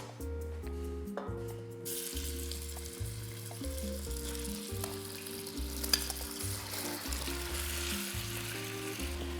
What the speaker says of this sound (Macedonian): Месото, претходно исечкано на коцки од 2 на 2 сантиметри, ќе го ставиме да се пржи.